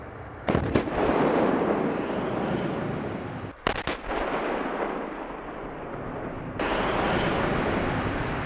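Russian Msta 2S19M2 self-propelled howitzers firing in Ukraine, several sharp heavy blasts in two bursts with rumbling echo between them, over a constant engine drone, heard from fairly close.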